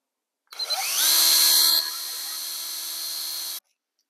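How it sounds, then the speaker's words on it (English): A power drill whines up to speed, bites into a cabin wall with a brief higher-pitched grind, then runs steadily for a couple of seconds before stopping abruptly. "I need to drill a hole in the wall right there"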